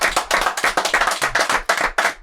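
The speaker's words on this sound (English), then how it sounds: "give a round of applause, Coach V." A round of applause for Coach V, Tony Vitello, at a San Francisco Giants manager event: close, loud, rhythmic clapping in strong regular bursts, like a few people clapping hard and steadily.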